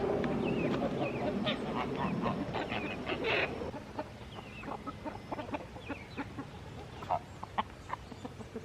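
Chickens clucking and chattering in short bursts, with a louder rustling stretch at the start before the clucks continue more sparsely.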